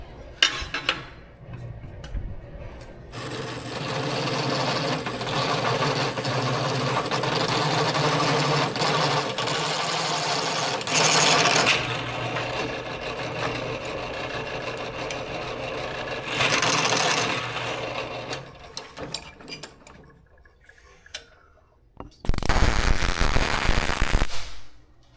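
A drill boring a 3/4 inch hole for a grommet and post, running loud and steady for long stretches with a couple of short pauses and a final burst near the end.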